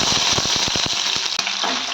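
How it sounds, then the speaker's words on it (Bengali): Boiled egg frying in hot oil in a pan gives a close, steady sizzle with dense crackling pops and a brief break near the end, no voices. "এবার ডিমটাকে সেদ্ধ করা ডিমটা ভেজে নেব"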